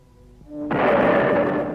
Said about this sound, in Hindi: एक साथ 10 तोपों की गरज सुनाई दी